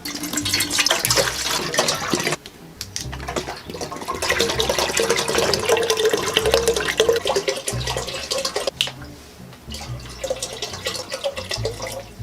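About 1.25 gallons of water poured into a pot for a first homebrew batch, a loud, continuous splashing gush close to the microphone, with a brief break partway through before the flow resumes.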